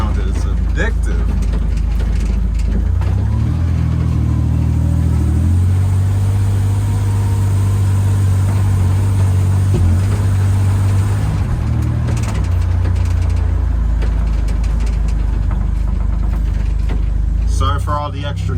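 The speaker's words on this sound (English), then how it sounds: "Oh man, that turbo sound is addictive." Loud engine drone from a Buick Grand National turbo heard inside the moving car, rising and falling through gears with rattling windows down, and someone talks over it.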